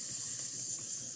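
A digital hiss sound effect from a comic-making app: a steady, bright hiss lasting about a second, heard alone.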